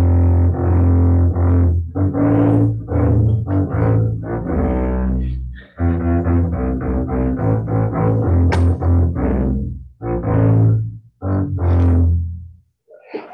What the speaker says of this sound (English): And the bass is going to sound something like this.